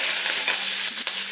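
Urad dal and curry leaves frying in hot oil, giving a steady, loud, close hiss of sizzling with faint crackles throughout.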